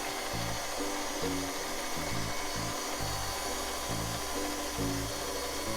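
A stand mixer kneads pizza dough at medium speed, its motor whirring steadily with a rhythmic thumping as the dough slaps around the bowl, loud and continuous with no talking.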